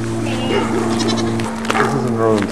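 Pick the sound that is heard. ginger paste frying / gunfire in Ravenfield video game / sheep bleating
sheep bleating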